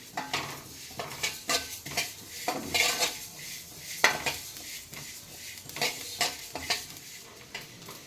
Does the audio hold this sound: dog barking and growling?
no